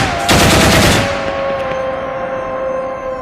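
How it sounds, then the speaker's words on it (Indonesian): A rapid burst of gunfire crackles for about a second, then fades into a lingering ringing tone and low background hum. "tiba-tiba keduanya mendengar tembakan beberapa kali"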